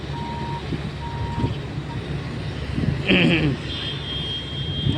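A JCB excavator's reversing alarm gives a few faint, evenly spaced beeps from a distance. A broad rumble of engines and outdoor noise surrounds the beeps.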